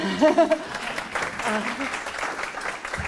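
Applause from an audience swells after a brief spoken voice and continues steadily, moderately loud, for a few seconds.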